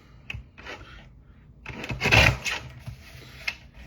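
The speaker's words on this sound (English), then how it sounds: "I'm gonna go ahead and trim this down to an A2 sized card" Card stock being trimmed down to A2 card size with a paper trimmer, giving a few short scraping and sliding cuts, the longest near the middle, fairly close with no talk.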